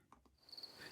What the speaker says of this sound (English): Do you have crickets?